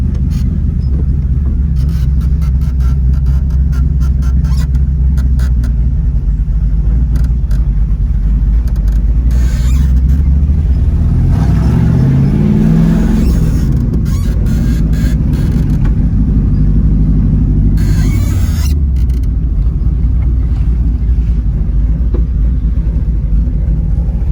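A 1961 Corvair fitted with a Lakewood V8 engine runs loudly up close in hot South Florida weather, a deep steady rumble broken by two rising revs, with no talking.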